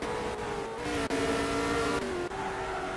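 Race cars in a drifting competition scream along at sustained high revs, engine tones sliding and shifting with brief dips as they power down the chute, loud and continuous with no talk.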